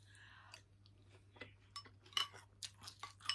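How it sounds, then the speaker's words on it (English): Multi-grain breakfast cereal being chewed in the morning, a soft sequence of quiet, close crunches and clicks that grow slightly sharper toward the end, with no talking. "I do always like to eat cereal in the morning."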